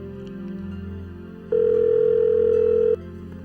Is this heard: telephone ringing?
yes